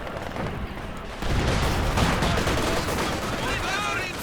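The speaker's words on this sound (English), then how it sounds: "Frag grenade thrown on top of that" Battle sounds from the real-time strategy game Company of Heroes 2 include a frag grenade explosion amid dense gunfire, with a heavy blast surging near the middle and crackling combat continuing under commentary.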